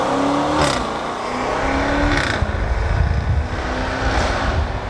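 A Jaguar Project 8 engine drones loudly inside a tunnel, heard from the cabin, its pitch rising and settling with a few swells of revving and crackles echoing off the walls.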